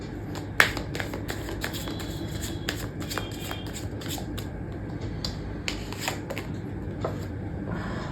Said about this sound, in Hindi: अगर आपको कार्ड शफलिंग नहीं देखनी